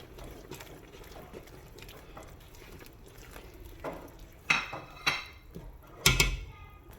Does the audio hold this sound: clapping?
no